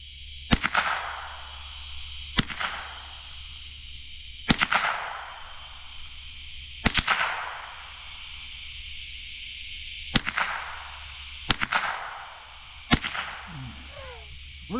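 Gunshots from a Ruger .380 LCP pistol, seven sharp, loud outdoor cracks fired at irregular intervals across the clip, each followed by a brief echo over a low steady hum.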